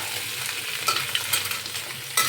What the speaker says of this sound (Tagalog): At ang aking igisa ko lang po yan.